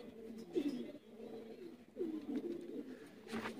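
An Indian pigeon, a lakha breed, coos nearby in soft, low, rolling phrases, two or three repeated bursts with short pauses, with faint background noise between them.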